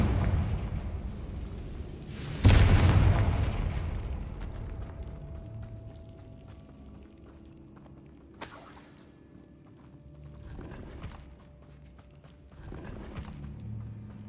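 A Confringo blasting spell detonates in the Hogwarts Legacy video game, a loud broadband burst with a low rumble that decays over a couple of seconds, followed later by quieter game impacts and ambient effects.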